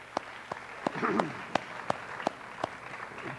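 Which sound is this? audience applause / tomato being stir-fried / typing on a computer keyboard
audience applause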